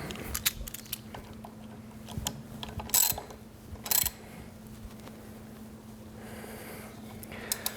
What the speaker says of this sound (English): go ahead and tighten down those set screws